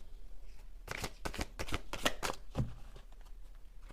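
Oracle cards for a gratitude deck being shuffled by hand, a quick run of crisp riffling bursts mid-clip, close and fairly loud, with no talking.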